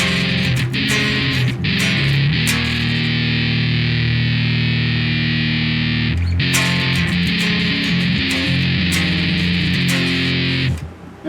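A homemade electric guitar churns out heavily distorted drop D riffs, sustained low power chords alternating with short chugging bursts and a brief pause midway, loud and close.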